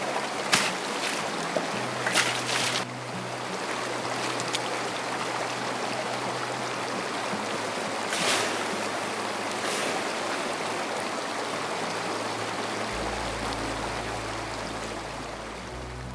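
A small stream flowing across a mountain road in Zanskar gives a steady, broad rush of running water, with a few brief clunks and splashes and a low idling rumble near the end.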